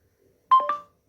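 Google Assistant opening on a phone with its short two-note electronic beep, a clean rising chime heard alone against silence.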